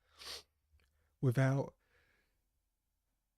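A single short, breathy sneeze at moderate distance, followed a beat later by someone speaking briefly.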